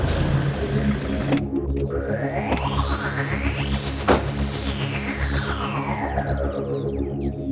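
A police superintendent's car approaches at night and sweeps past with a rising then falling whoosh, its engine rumble loud and near throughout and no voices over it.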